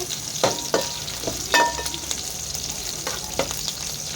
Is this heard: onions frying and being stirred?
yes